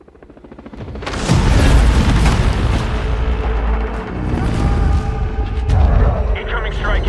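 Artillery strike explosions from a Battlefield 6 video game trailer, a loud rumbling barrage of booms that builds after the first second and rolls on continuously, with a voice speaking over it.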